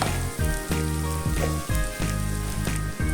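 Onions frying in a pan for eggplant adobo give a steady sizzle, broken into rhythmic pulses that suggest stirring, while loud tonal music plays over it.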